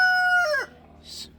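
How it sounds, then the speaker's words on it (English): A rooster on an off-grid Florida homestead finishes a loud, close crow that bends and trails off, followed by a brief soft rustle. "He's a good rooster."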